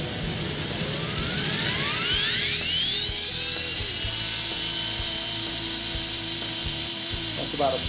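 A Trex 450 RC helicopter's rotor and motor spin up with a whine that climbs steeply in pitch over a couple of seconds. It then settles into a loud, steady high-pitched drone, close by, with faint mechanical clicking underneath.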